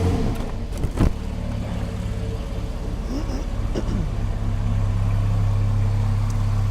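Porsche 911 Carrera 4 GTS with a 3.8 litre flat six engine running, a steady, loud low rumble close by with a slight rise in revs toward the end.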